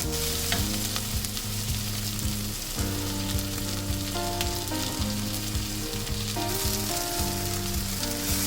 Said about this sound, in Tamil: இந்த மாதிரி சேர்த்துட்டு நல்லா வதக்கி விடுங்க. இந்த வெங்காயம் நல்லா பொன்னிறமா வரட்டும்.